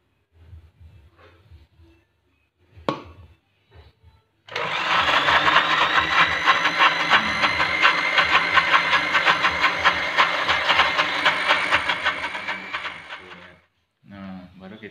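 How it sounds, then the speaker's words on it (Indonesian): Tofu mixture for meatballs whirring in an electric kitchen blender, a loud steady motor roar running for about nine seconds, with brief talk and handling noises before and after. "Sedikit lagi ya, sedikit lagi kita blender lagi"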